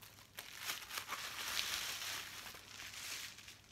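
Packaging for a Razer Naga Chroma gaming mouse is opened with soft, continuous crinkling and rustling of plastic and paper, close and fairly quiet, with no talking.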